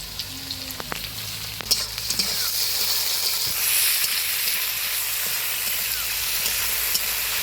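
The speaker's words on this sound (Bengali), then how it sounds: "ভালো করে তেলে এরকম নাড়িয়ে নেব" Tomatoes, half ripe and half green, frying and being stirred in hot oil for a katla fish curry, giving a steady close sizzle with a few scraping stirs of the spoon, no voices.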